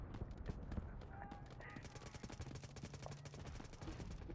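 Artillery barrage in a BGIS/BGMI match, a dense stream of rapid repeated blasts and crackling impacts filling the scene, with voices talking over it throughout.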